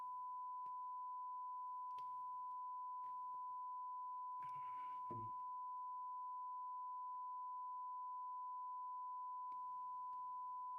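A long, steady electronic beep tone holds unbroken at one pitch throughout an analog horror sign-on procedure, with a brief rumbling burst partway through and faint clicks around it.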